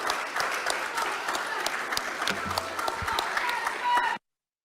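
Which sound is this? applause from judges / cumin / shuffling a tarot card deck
applause from judges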